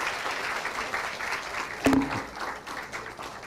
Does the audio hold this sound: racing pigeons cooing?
no